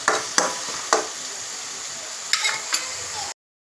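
Soya chunk curry being stirred in a pan, with a few distinct scrapes and knocks of the spoon against the pan at intervals over a steady background hiss of frying, close and fairly loud.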